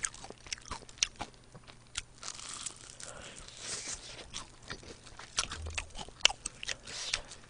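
Crispy Kyochon fried chicken wings being bitten and chewed up close, sharp crunches and crackling bites in an irregular rhythm, with soft chewing between them and no talk.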